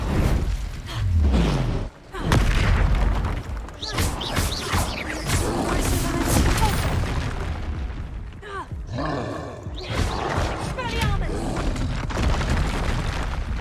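Loud blasts and booming impacts from the Confringo and Incendio spells in the Hogwarts Legacy video game, several bursts across a dense, continuous mix of game effects and music, with a voice talking over parts of it.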